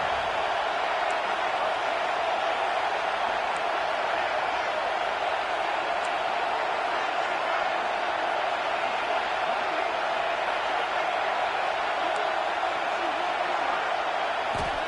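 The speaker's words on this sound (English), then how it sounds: "Listen to this crowd just shaking the girders of this place," Stadium crowd at a football game, a steady loud roar of cheering from thousands of fans, sustained and dense throughout with no single voice standing out.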